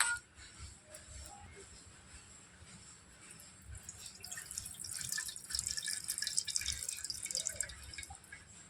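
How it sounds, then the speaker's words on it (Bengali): Sabudana (tapioca pearls) are washed in water, with soft sloshing and dripping close by that grows busier partway through, and no voices. "জল দিয়ে এবার সাবুদানাটা আমি খুব ভালো করে ধুয়ে নেব"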